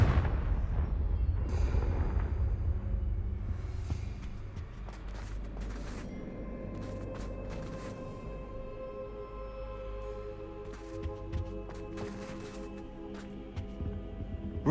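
A Confringo blasting spell detonating in Hogwarts Legacy, a heavy booming explosion that hits at the start and rumbles low, then fades into crackling debris and lingering magical tones.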